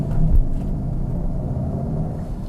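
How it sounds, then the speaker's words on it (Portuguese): Low, steady rumble inside the cabin of a Mercedes-AMG EQS 53 electric sedan speeding up in Comfort mode, a smooth road drone with no engine roar. "Se liga o quanto que esse carro acelera"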